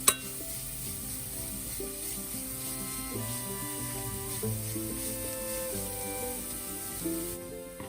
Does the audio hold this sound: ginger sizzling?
yes